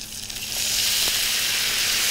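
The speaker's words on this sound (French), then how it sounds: "On va déglacer au vin blanc." A hot pan of vol-au-vent ingredients, its excess fat poured off, is deglazed with white wine: a quiet moment, then a loud, steady sizzle surges up and holds close.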